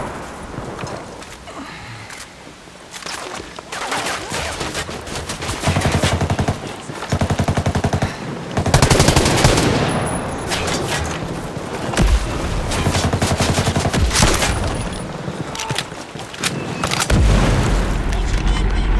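Bursts of automatic gunfire and booming shots crackle through a Ghost Recon Breakpoint firefight in loud, uneven volleys, with voices calling out between them.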